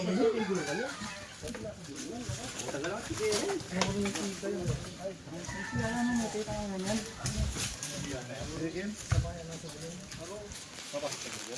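Chickens cluck and squawk close by, mixed with overlapping voices talking throughout.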